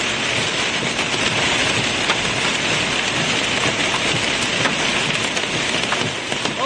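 Heavy rain mixed with hail pelts down during an Ohio thunderstorm, a dense, steady hiss of impacts with scattered sharper pings.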